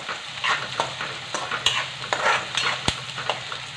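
Onion sautéing in a pan while making a bhindi (okra) vegetable dish, with steady sizzling and frying under repeated scrapes and clinks of a spoon stirring against the pan, close and moderately loud.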